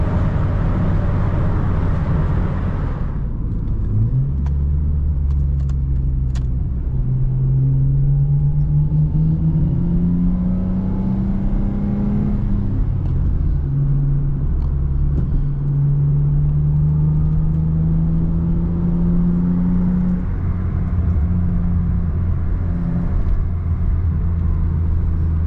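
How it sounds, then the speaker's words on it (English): A Lexus IS300 drives and accelerates, its engine droning steadily inside the cabin with rising pitch through successive pulls and gear changes, loud and continuous with no talk. "This thing drives like it's on rails now, you guys."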